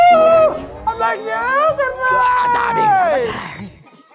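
A voice imitates a rooster crowing, a long rising and falling drawn-out call held for several seconds and delivered loud and close.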